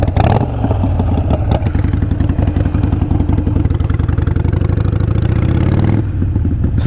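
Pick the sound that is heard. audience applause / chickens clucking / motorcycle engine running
motorcycle engine running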